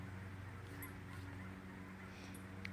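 Geese honk outdoors in a backyard where they swim on nearby water, a few faint calls over a steady low background hum.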